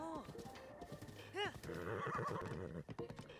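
A horse in the video game The Legend of Zelda: Breath of the Wild gives a short, loud neigh amid a run of clip-clopping hooves, with game music and effects layered around it.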